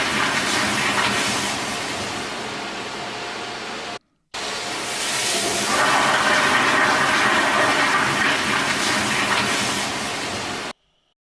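A toilet flush sound effect gives a long, loud rushing wash of water noise, broken by a brief silent gap before the roar resumes and then cuts off abruptly.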